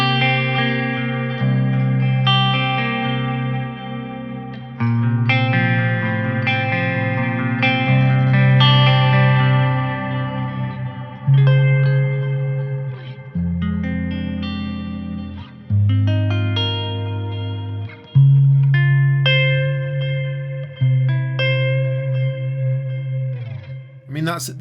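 Clean electric guitar through the ToneForge Misha Mansoor plugin, with chorus, echo and reverb shimmering around chords and arpeggiated phrases, played continuously and close with a loud, full tone.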